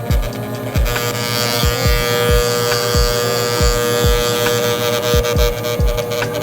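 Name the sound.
electric hair clippers with half guard cutting hair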